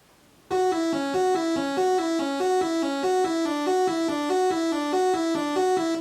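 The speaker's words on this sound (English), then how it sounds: "this right here is the synth" A bright synthesizer in FL Studio, without presets, plays a steady, repeating pattern of short melodic notes, loud and clear with nothing else behind it.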